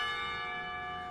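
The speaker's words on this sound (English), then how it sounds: "The clock tower bells ring, signaling the end of the period." Clock tower bells from the Katawa Shoujo visual novel ring with a sustained, resonant metallic tone, heard alone and clear, signaling the end of a school period.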